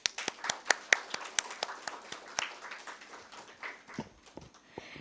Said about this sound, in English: boost our enthusiasm today with a huge round of applause